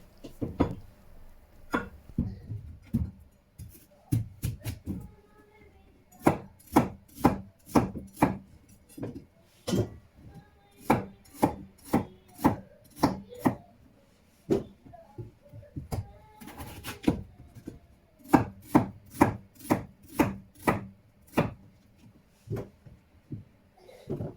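Onion sliced on a cutting board for maqlooba, a long run of sharp, rapid knife chops in quick bursts with brief pauses, close and clear, with no talk.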